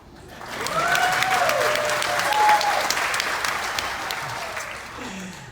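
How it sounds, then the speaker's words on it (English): A cruise ship theater audience at a magic and comedy show gives a swelling round of applause, many hands clapping together in a full, sustained burst that rises quickly and tapers off, with a few voices calling out. "this is going to signal you to go into spontaneous applause."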